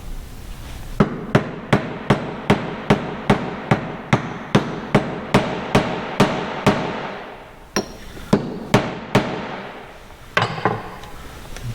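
A socket is used to tap lip seals into a pump from a Chieftain tank's GU engine. About twenty sharp, evenly spaced metallic knocks ring out close by, with a brief pause before a few final taps.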